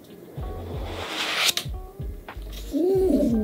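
A Google Pixel 7 Pro box being unboxed: close scraping and sliding of cardboard, a sharp tearing swish as the lid lifts, and soft thumps as parts are handled.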